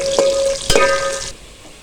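Onions frying in a pan for beef qeema pulao, turning golden, a close steady sizzle broken by a couple of sharp clatters from stirring, with a brief faint ringing tone, then quieter sizzling toward the end.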